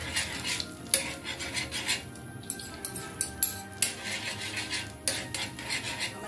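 Beaten egg scrambled in hot oil in a pan, with a metal utensil repeatedly scraping, stirring and clinking against the pan in quick, uneven strokes, close and moderately loud.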